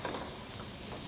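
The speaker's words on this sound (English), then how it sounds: "So I'm going to add 2 cups of black beans." Two cups of black beans tipped into a hot pan with cumin give off a soft, steady sizzle and a light scraping stir, close and quiet, with no talking.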